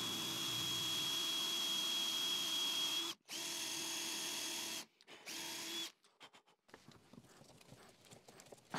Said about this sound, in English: I'm going to pre-drill a hole and I'm going to drive one of these furniture fixtures.